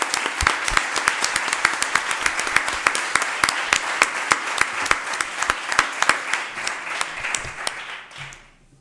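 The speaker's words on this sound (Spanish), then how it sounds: "yo sí pido un aplauso particular para Nati" An audience applauds with dense, steady clapping that holds strong for several seconds, then fades out quickly at the end.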